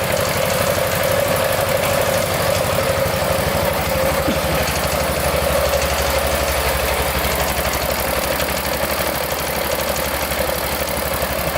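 A rare 1970s Pacesetter three-wheeler idles steadily, its engine giving a close, loud, even rumble with a regular low putter and no break for the whole stretch.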